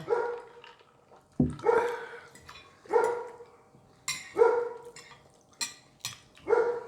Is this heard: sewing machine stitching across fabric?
no